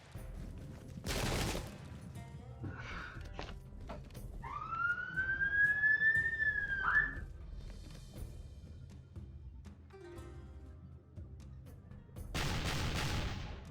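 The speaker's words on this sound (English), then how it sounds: "Noisy sirens. Hope everyone's okay." A siren wails outdoors, one rising, held tone that lasts a few seconds and fades. Loud, broad bursts come just before and just after it, and there is no talk.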